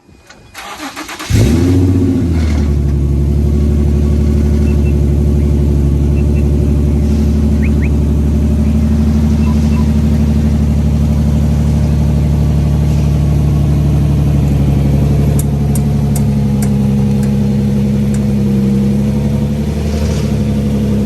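A broken-down car with a damaged subframe starts up, then its engine runs in a steady, loud, low drone while it is driven very slowly, with faint rattles and clicks above it and no talking.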